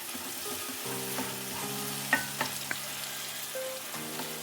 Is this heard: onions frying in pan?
yes